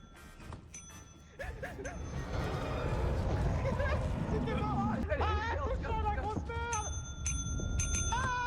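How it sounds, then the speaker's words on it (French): Shop bell in a video game pressed over and over in quick succession, bright metallic dings overlapping one another while several people talk, shout and laugh loudly over them. "On va tous appuyer sur la sonnette l'un après l'autre jusqu'à ce qu'il y en ait un qui meurt."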